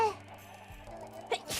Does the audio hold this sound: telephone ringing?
no